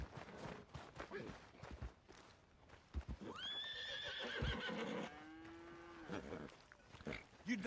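A horse in the Western video game Red Dead Redemption 2 gives a long, wavering whinny midway through, with snorts and hoof thuds around it; the sound is quiet overall.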